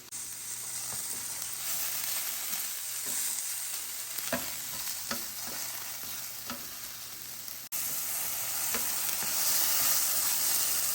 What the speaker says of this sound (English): I'm gonna drop these mushrooms in there. We'll let these cook down